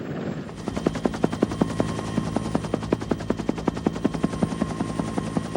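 Cobra helicopter gunships in a Gulf War tank battle: steady rotor drone with bursts of rapid machine-gun fire, sharp repeated reports pounding at an even pace over the engine for several seconds, loud and close, with no talk.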